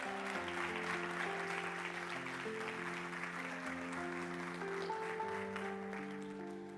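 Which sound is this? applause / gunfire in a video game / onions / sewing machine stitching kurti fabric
applause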